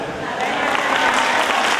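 An audience claps together at a satsang gathering in Sikar, Rajasthan, a dense, steady burst of applause with a voice speaking over it.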